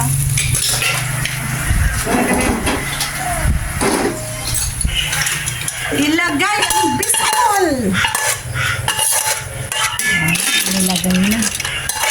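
A spoon scrapes and clinks against a metal pot as sautéed garlic is stirred, with a soft sizzle underneath and repeated scraping strokes.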